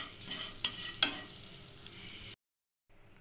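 Butter brushed onto a hot pan over a gas flame produces a steady close hiss and sizzle, with light brush scrapes and a couple of small clicks, then a sudden cut to silence and a faint return.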